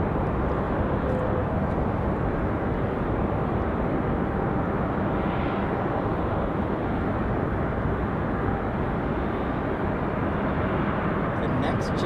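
A Frontier Airlines airliner landing at Raleigh-Durham airport, a loud, continuous broadband jet roar that holds steady throughout, heard from nearby without pauses.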